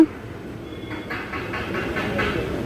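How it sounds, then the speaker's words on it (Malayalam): A train departs Thalassery in Kerala and rolls along with a low steady rumble and rhythmic clacking of wheels over rail joints, heard from inside a carriage. "ഇതാ ട്രെയിൻ വിട്ടിരിക്കുകയാണ്"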